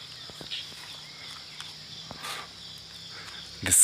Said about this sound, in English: Guys, listen to the sounds of the cricket.